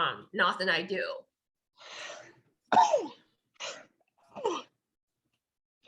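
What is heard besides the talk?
sneeze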